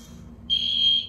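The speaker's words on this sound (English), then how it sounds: "I was sleeping and fire alarm went off" A building fire alarm sounds inside a residence, a loud, steady, piercing electronic tone that starts abruptly after a moment of low background hum and holds continuously.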